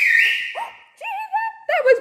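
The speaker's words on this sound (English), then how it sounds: "he gave us a whistle" A person whistling in a few short, clear melodic phrases, rising and sliding in pitch, close and fairly loud with brief pauses between them.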